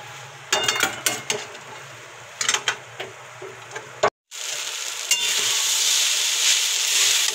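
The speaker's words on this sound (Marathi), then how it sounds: "छान असं आता हे मिक्स करून घ्यायचं आहे आपल्याला" Pohe being stirred and mixed in a pan: a spoon scrapes and knocks against the metal in uneven strokes, followed by a steady, close sizzle that swells after a brief pause.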